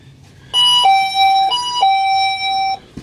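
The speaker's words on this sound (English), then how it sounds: "We've got the buzzer to let me know when people come in." A shop door entry buzzer sounds inside a comic book store, a loud two-tone electronic chime alternating high and low notes for about two seconds, starting abruptly and cutting off cleanly, with no talking.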